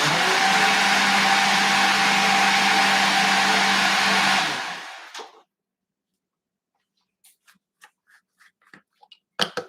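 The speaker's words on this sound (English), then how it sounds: "Hopefully that blender noise wasn't too loud." A blender whirs loudly and steadily for about four seconds, then spins down and stops, followed by a few faint clicks and taps.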